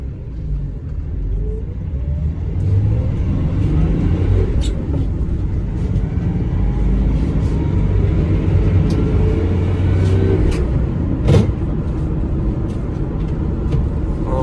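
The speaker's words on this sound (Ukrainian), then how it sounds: "Зробимо старт з другої передачі, щоб було видно, як їде автомобіль." A Mercedes Sprinter 516 van with a 3.2 OM648 engine pulls steadily under load from second gear, heard from inside the cab, a continuous rumbling drone with faint clicks and knocks over the top.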